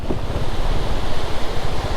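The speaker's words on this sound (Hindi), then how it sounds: "वाटरफॉल ऊपर से आ रहा है भाई पानी" Water rushing down a Himalayan waterfall near a small stream crossing on a mountain route, a steady loud broadband roar close by with some wind buffeting, no talk.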